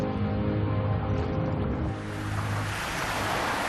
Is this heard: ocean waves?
yes